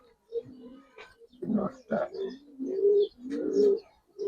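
Flying pigeons in a loft give several close, throaty coos in rolling bursts, interleaved with someone speaking nearby.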